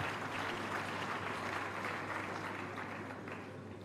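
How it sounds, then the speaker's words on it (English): Steady applause from a crowd at a University of Lagos convocation ceremony fills the space, a dense even clapping that tapers slightly toward the end. "A round of applause for him."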